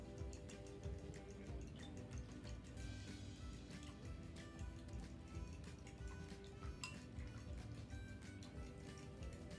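A fork whisking vinaigrette in a bowl, quick rhythmic clinks and taps of metal against the dish over a soft liquid slosh, faint and close with no talking.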